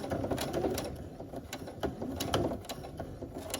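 A sewing machine runs slowly and steadily, stitching the handle onto a reusable fabric shopping bag, with close, rapid mechanical ticking and clatter throughout and no talking.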